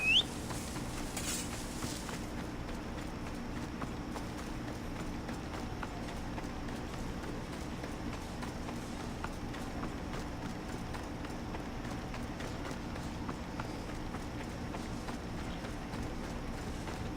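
Quiet, steady pattering of hooves at a gallop in Assassin's Creed Odyssey runs under a low hum of game background sound, with a brief brighter sound at the start.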